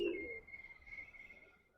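A fantail pigeon gives a short, soft coo close by, a single low throaty call that fades quickly in a quiet setting.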